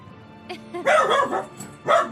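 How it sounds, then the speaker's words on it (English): A dog in a home recording room barks several times, a couple of small yips followed by a louder burst of barks and a final bark, close and fairly loud. "now he's barking. So you're gonna be hearing some barking."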